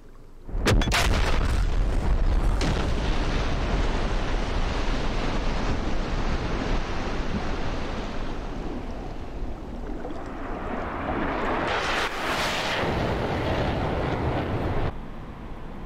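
Rockets fired from an Su-25T in the DCS World combat game burst into a heavy, roaring explosion that starts abruptly and rumbles on, with a second loud swell near the end before cutting off.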